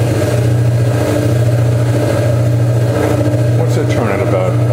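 A screw conveyor agitator runs with a steady, loud mechanical hum and drone, a continuous machine tone throughout with faint background voices.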